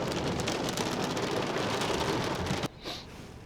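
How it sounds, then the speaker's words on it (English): Hail mixed with rain pelts down during a storm in Whyalla, a dense, loud hiss of impacts that suddenly drops away near the end, leaving a quieter patter. "got a little bit of hail instead, something different"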